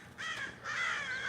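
Crows cawing outdoors, two drawn-out harsh caws in quick succession at moderate distance.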